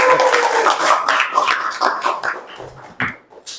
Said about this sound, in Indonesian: Oke, boleh tepuk tangan untuk Noval.